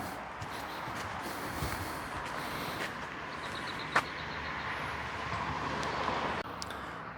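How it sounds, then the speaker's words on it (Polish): Steady road traffic roar from cars passing on a nearby street, heard from a pedestrian's position as a continuous broadband rush with one brief sharp knock midway and no talk. "Warkot samochodów."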